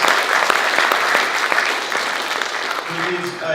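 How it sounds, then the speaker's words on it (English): Audience applause at a renewable energy forum, a steady wash of many hands clapping throughout, fairly loud and dense, easing slightly toward the end as a faint voice begins to emerge. "Give us a big round of applause."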